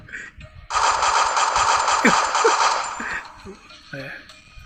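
Rapid machine-gun fire in an online shooting game rattles loud and continuous for about two and a half seconds, then stops, leaving brief softer effects and a short voice.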